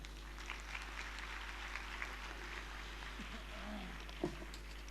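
An assembly of saints and devotees in a temple hall at a Swaminarayan festival applauds, a soft, even spread of clapping that holds steady throughout, heard from some distance and with a low hum beneath it.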